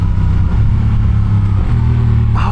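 A Honda Rebel 1100 DCT automatic motorcycle drones loudly while riding, its engine note steady and then briefly shifting pitch near the end.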